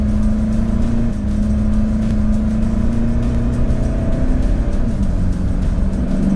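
A pickup truck accelerates toward 100 km/h on a brake-test course, with a loud, steady engine drone and road roar rising slightly in pitch throughout.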